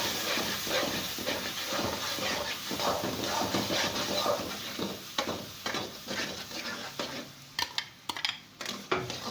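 Egg and semolina halwa stirred with a spoon in a pan, giving a steady scraping, hissing stir with frequent sharp clinks and scrapes that grow more distinct toward the end.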